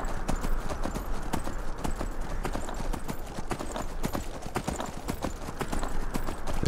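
Horse hooves clip-clop steadily in the video game Skyrim, a continuous rhythmic trot of close hoofbeats over a low ambient game background.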